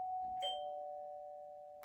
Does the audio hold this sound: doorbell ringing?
yes